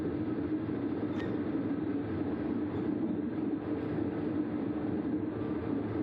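Ordinary train no. 234 passing on a single main track between Huai Thalaeng and Chakkarat in Thailand, a steady loud rumble and roar of wagons rolling by close at hand, continuous throughout with no voices.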